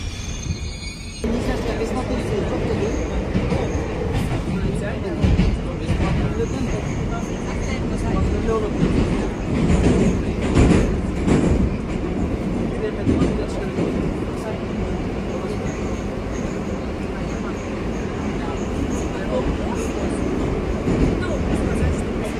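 A Moscow metro train car runs near Baumanskaya station with a loud, continuous rumble and rattle from inside the carriage, swelling and easing slightly but never stopping.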